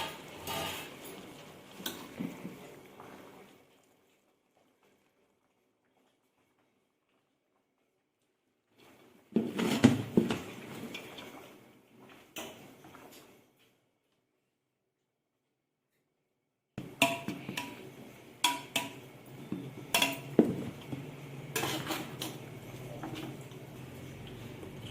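Biryani rice spooned in layers over chicken in a pot, soft scattered scrapes and clinks of a utensil against the pot in short bursts, broken by long silent gaps.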